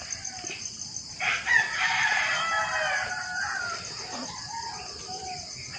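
Chickens eat close by while a rooster crows once, loud and drawn out, amid scattered soft clucks and chirps.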